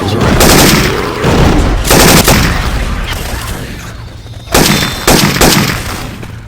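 Loud, close bursts of weapon fire from Syphon Filter sound effects in Left 4 Dead 2 gameplay, several rapid volleys separated by short pauses, with faint game voices underneath.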